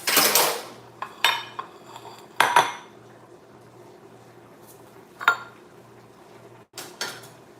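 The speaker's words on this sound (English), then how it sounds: "So let me continue cutting the peppers." A knife chops peppers on a cutting board: several sharp, distinct knocks and clatters spaced irregularly over a soft background hum, fairly close and moderately loud, with no talking.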